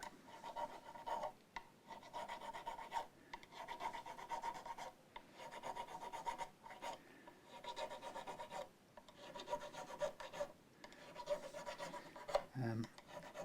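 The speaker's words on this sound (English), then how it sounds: "so that I can sand out with my range of sandpapers" Sandpaper rasps back and forth across the fingerboard of an Epiphone ES339 guitar in a steady run of quiet scratchy strokes close by, with a faint thump near the end and no speech.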